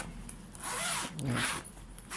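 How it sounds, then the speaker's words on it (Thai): Nylon zipper on the front pocket of an 80 cm fishing rod bag, pulled in a couple of quick rasping strokes, close and fairly quiet with no talk. "จะเป็นซิปไนล่อนนะครับ"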